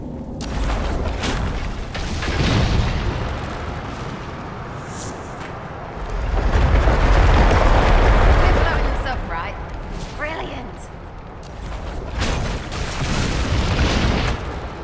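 A heavy booming explosion from the video game Dragon Age Inquisition, a sustained low rumble swelling in the middle of the clip over busy game sound, with no one speaking.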